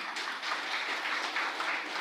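Steady applause from an audience of mayors and forum attendees at an international rehabilitation forum in Lviv, a dense, even wash of many hands clapping with no voices over it.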